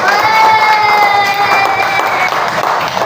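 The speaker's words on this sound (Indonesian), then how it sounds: "Kita juga tepuk tangan untuk semua anak-anak yang hari ini bersemangat." Applause and cheering for children in a classroom, a loud, sustained burst of clapping mixed with young voices shouting, steady across the few seconds.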